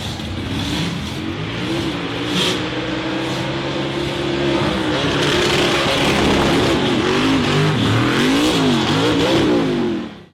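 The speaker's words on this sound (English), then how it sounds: "The orange and black buggy revved aggressively as it charged up a steep dirt and rock hill." An orange and black off-road buggy's engine revs hard and loud as it climbs a steep dirt and rock hill, a sustained roar with rising and falling pitch that cuts off at the end.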